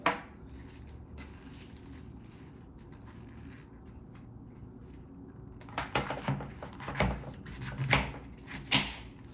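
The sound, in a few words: knife slicing through bok choy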